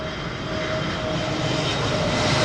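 A British Airways narrow-body jet airliner at London Heathrow Airport, a steady loud engine roar with a broadband rush that holds and builds slightly throughout, heard alone with no voices.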